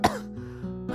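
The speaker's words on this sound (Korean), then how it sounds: "기침 뿜어내며 한동안 숨을 고른다" A video game character coughs once sharply after being choked, followed by a short wheezing, strained breath with a tonal rasp, close and alone.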